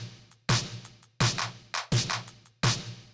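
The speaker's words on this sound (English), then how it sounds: "I've layered a clap and a snare to sound like this" Layered clap and snare drum samples in an 80s synth pop beat, bright noisy hits sounding in a steady backbeat pattern with short reverb tails, alongside quieter hi-hat ticks and a low sustained tone beneath.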